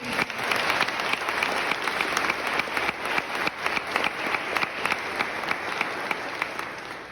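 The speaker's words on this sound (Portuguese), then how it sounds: "Pode aplaudir quem está me ouvindo." A church congregation applauds during a sermon at a Catholic sanctuary, with dense, steady clapping from many hands that holds at full strength throughout.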